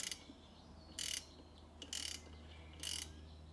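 A ratchet undoes the centre bolt of a Seat Leon's air-conditioning compressor, giving three short, close bursts of clicking spaced about a second apart over a quiet low hum.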